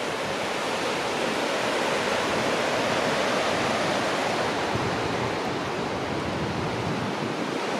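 Sea surges and churns inside Thunder Cave, a rocky sea cave on the Great Ocean Road, a steady, loud roar of crashing water and surf that fills the air without pause.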